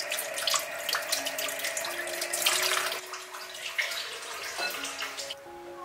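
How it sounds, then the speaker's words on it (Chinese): Running tap water streams steadily over eggs being rinsed clean in a kitchen sink, a continuous close splashing hiss with small shifts as the eggs are handled, no voices. "我们先来把鸡蛋清洗干净。"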